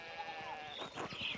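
Sheep bleating in the 16th-century-set video game Pentiment, a short wavering cry heard near and fairly clear over soft background ambience.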